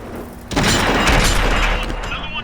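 A tank gun firing in World of Tanks, a sudden loud boom that rolls into a long rumbling tail, with a voice talking faintly before it.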